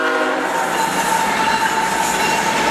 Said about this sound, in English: So clearly the train runs all night.